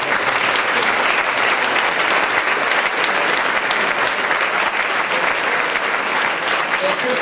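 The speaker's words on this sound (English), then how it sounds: "Give yourselves a round of applause." Audience applause in a Kennedy High School gathering, a dense, even roar of clapping that holds steady and loud for the full seven seconds.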